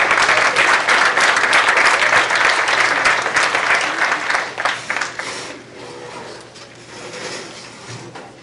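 A school board meeting audience applauds prize winners, first through fifth place, with loud, dense clapping that fills the room and then tapers off into scattered claps.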